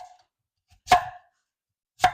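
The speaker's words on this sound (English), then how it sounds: "we're going to start by chopping up our sweet potato" A knife chops through sweet potato on a cutting board in a home kitchen, two crisp, separate thuds about a second apart against silence.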